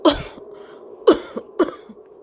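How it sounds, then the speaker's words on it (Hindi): A woman coughs three times in a short, spaced series, each cough sharp and close with a rough, breathy tail, heard alone without talk. "गोमती खांसने लगी, उसका बदन तप रहा था।"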